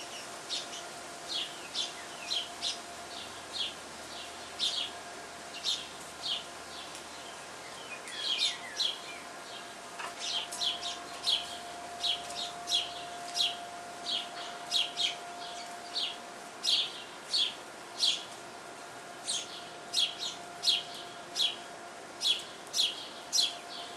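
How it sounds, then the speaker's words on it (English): Birds chirp and tweet all around a backyard in repeated short bursts, steady through the whole stretch at moderate distance, with a faint steady hum underneath and no talking. "I can hear chirping all around me"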